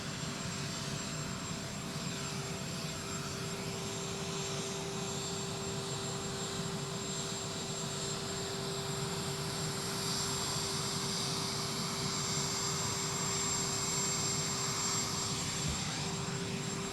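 Air Force One's jet engines run at Palm Beach International Airport, a steady broad roar with a sustained whine, fairly distant and slowly swelling toward the end.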